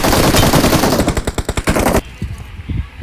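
Rapid automatic gunfire bursts loudly in the PUBG Mobile video game, a dense rattling volley followed by a few separate shots as it tapers off, with no speech over it.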